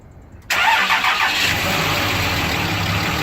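A 2006 Dodge Ram with a Cummins 5.9 liter straight-six diesel cold starts at 27°F, cranking briefly before catching with an abrupt loud burst, then settling into a steady rattling diesel idle.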